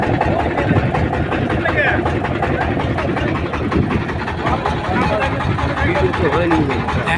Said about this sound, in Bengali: নৌকা স্টার্ট দিলাম